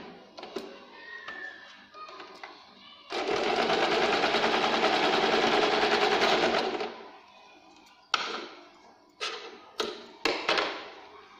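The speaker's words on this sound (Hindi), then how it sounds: "ऐसे तिरछी लाइन लेने के बाद हम यहाँ से इसको सिलाई करेंगे ताकि हमारा ये टक्स की सिलाई है, इसे हम पक्की सिलाई मारेंगे।" A sewing machine runs in a steady, loud burst of fast stitching for several seconds while sewing the tucks of a katori blouse, followed by a few short clicks and taps of fabric handling.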